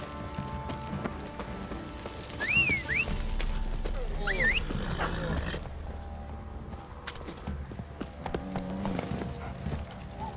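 A horse in The Witcher 3 clip-clops in a steady gallop under music, with a whinny-like call and other game sounds.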